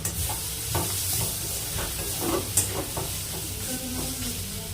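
Chopped tomatoes and chili powder frying in a pan, a dense steady sizzle close by with occasional spoon scrapes and stirring knocks throughout.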